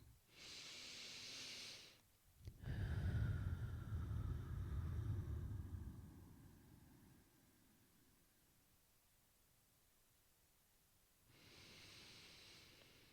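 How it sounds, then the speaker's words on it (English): Slow, deep breaths come close and fairly loud in a quiet room. A long rushing inhale is followed by a drawn-out exhale, and a softer breath comes at the end. "And just do some deep breathing from there."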